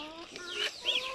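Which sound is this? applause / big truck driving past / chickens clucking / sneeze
chickens clucking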